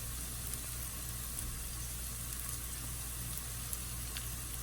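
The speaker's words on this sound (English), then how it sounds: "We are going to fry the onions till it turns translucent." Sliced onions and slit green chillies frying in a pan, giving a soft, even sizzle and crackle that holds steady, quiet and close, with no talking.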